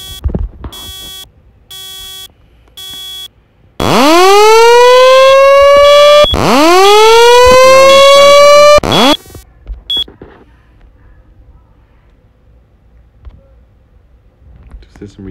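Loud smoke detector alarm in a Roblox game: rapid beeping pulses, then two long rising siren-like wails, followed by scattered beeps and clicks fading into quieter noise.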